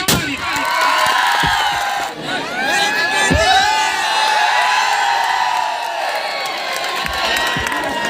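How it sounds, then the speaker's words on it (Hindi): Loud crowd cheering, whooping and shouting from a live audience for Chhattisgarhi comedian Bhaira Kaka at a stage comedy show, sustained and dense throughout with a brief dip midway. "भैरा काका के लिए एक बार जोरदार ताली।"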